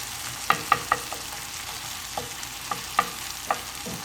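Softened onions sizzle quietly in a pan while a spatula scrapes and taps against the metal in a handful of sharp, scattered knocks.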